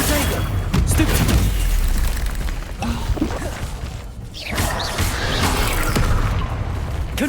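Booming explosions and crashes from Hogwarts Legacy spell combat, including the Confringo and Bombarda spells, burst repeatedly at close range amid a constant din of battle effects, with voices calling out over the fight.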